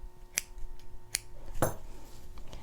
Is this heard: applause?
no